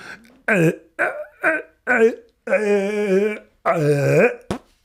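A voice imitates fart noises straight into a microphone, making about seven close, loud, buzzing bursts of uneven length with short pauses between them.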